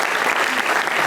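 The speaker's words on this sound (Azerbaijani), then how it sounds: "Sizi də bir alqışlayaq." An audience at a comedy show claps loudly and continuously, a dense, even burst of applause filling the short moment.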